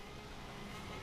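A Lamborghini Aventador engine in The Crew driving game, a loud, dense, steady roar throughout, close and unbroken, with no talking.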